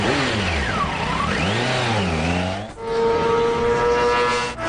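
A Kawasaki ZX-14 motorcycle engine revving hard, its pitch sweeping up and down in loud close passes, then settling into a steady high whine with gear-shift dips.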